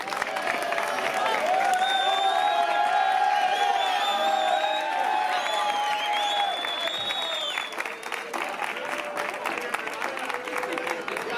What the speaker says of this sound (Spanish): Damos un aplauso a Alejandro de Galgo